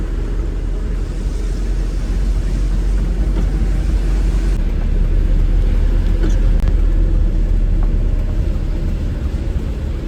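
A goods vehicle drives along a narrow road between Varanasi and Bihar, its engine giving a loud, constant low rumble that carries on without a break.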